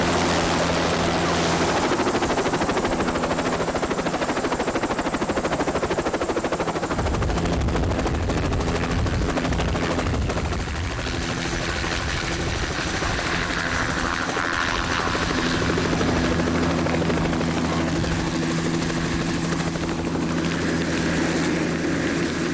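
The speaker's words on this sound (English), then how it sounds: "They successfully get the hostage into the helicopter within the allotted time." A helicopter roars loudly and steadily with a chopping rotor throb, seemingly close, during a jungle special forces hostage-rescue exercise at a landing site, with no speech.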